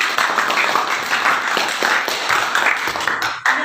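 Classroom applause for a student's presentation: dense, steady clapping from a group of students, close and fairly loud, running evenly for a few seconds before thinning out at the end.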